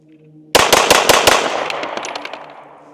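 A Springfield Armory XD Mod 3 pistol fires Hornady defensive ammunition in five sharp, loud shots in rapid succession, close by, followed by echoing decay outdoors.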